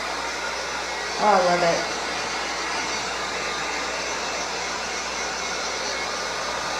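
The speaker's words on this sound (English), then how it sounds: "I'm gonna blast it with a heat gun real quick." Heat gun blasting steadily to dry stencil paint on furniture, a loud continuous blowing roar that runs the whole time, with a brief spoken remark near the start.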